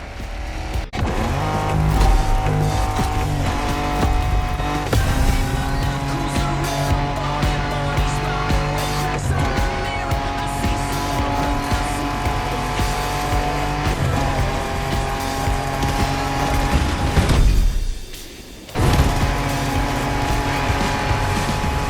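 Off-road car racing in The Crew Motorfest, with loud engines roaring steadily alongside tire squeal and skidding across the whole stretch, broken only by a brief drop near the end before the racing noise returns.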